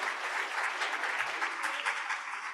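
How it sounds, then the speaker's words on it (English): Audience applause for a moderator and a discussion panel at a public event, a steady wash of clapping of moderate loudness lasting the whole moment. "Let's a round of applause to him and our wonderful panel."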